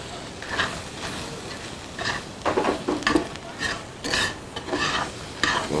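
A spoon scrapes and stirs flour into mushroom gravy in a pan, giving a series of uneven, close scraping strokes over a faint sizzle.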